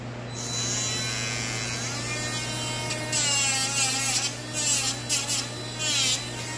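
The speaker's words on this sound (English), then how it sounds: "So we are going to grind your toes." Electric nail grinder buzzing close up on a senior Lhasa Apso's black toenails, a steady high whine that dips and wavers in pitch as it presses against each nail, with brief louder grinding bursts.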